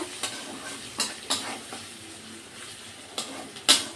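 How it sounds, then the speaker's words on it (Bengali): Cauliflower and potatoes stirred and frying in a pan, a steady sizzle with scattered scrapes and clinks of a utensil against the pan, close up and with no talking. "আর ঢেকে দেব না আর একটু ভাজা ভাজা করে নেব"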